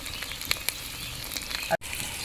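Onions sizzle and fry in a pan while cooking a country chicken dish outdoors at a village picnic, a steady close hiss with a few brief clicks and stirs, then a sharp momentary cut-off near the end.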